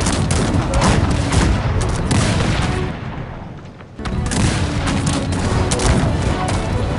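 Explosions and gunfire in the video game Cossacks 3, a loud, dense battle barrage of rolling booms and crackling volleys, briefly dipping before surging back at full intensity.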